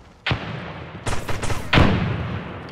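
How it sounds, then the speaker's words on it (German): A grenade blows up in the online shooter America's Army: Proving Grounds, one sharp blast followed by a burst of loud gunfire and a second heavy boom, all close and loud. "Ich schmeiß da die Granate hin."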